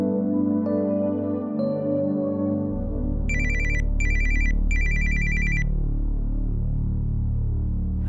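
On an outgoing call, a phone's ringback plays in three quick bursts of bright, warbling electronic rings, close and clear, over a steady bed of soft background music.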